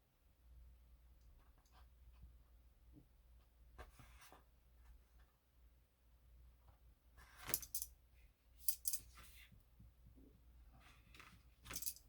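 Scissors snipping paper for a Christmas craft in a quiet room, a few faint crisp cuts and rustles clustered near the end, soft and close.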